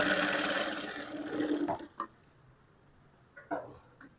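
A sewing machine stitches fabric for a dress, running steadily and fairly loud for under two seconds before stopping, followed by a few faint clicks and handling sounds.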